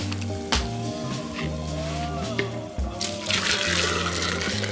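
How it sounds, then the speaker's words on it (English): Hot water poured over fresh basil leaves for tea, a steady close splashing and trickling pour that swells louder toward the end, with brief clunks of the kettle or cup and no talking. "I'm gonna just pour this hot water over my basil."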